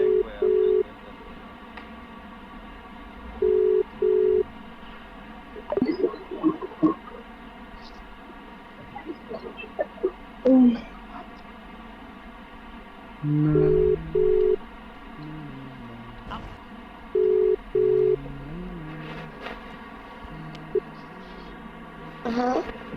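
Phone ringback tone repeating in spaced double bursts while a call goes unanswered during a BGMI mobile game session, with game sounds and brief low voices between the rings.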